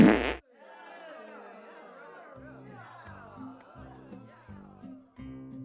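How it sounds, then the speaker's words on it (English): A loud, short fart sound effect bursts out at the start of a children's read-aloud story, then gives way to lively chatter and voices. "a fart."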